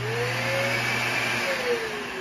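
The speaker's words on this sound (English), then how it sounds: "I'm using the Dyson vacuum to suck out the lint." A Dyson vacuum cleaner sucks lint out of a dryer blower housing, giving a steady whining motor drone with a high tone that shifts in pitch as the nozzle moves, close and continuous with no talking.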